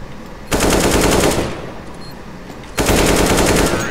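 Two long bursts of rapid automatic AK rifle fire in the CS:GO shooter game, loud and close, each lasting about a second, with a short lull of lower game noise between them.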